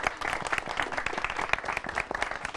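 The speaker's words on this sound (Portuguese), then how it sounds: "palmas pra Julie" Studio audience applauds Julie on a Brazilian talk show, a quick burst of crowded clapping, fairly faint and even, with no speech over it.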